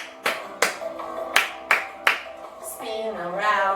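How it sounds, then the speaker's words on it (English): Five sharp hand claps land at a steady, roughly even rhythm during a children's class action song, followed by a sung or hummed tone as the music carries on. "clap your hands"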